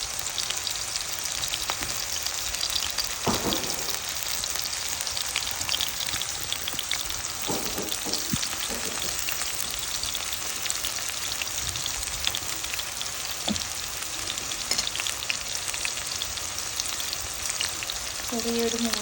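Ginger and garlic drop into onions frying in oil in a pan for a kappa and boti curry, giving a steady close sizzle with occasional louder spatters and stirring clinks throughout.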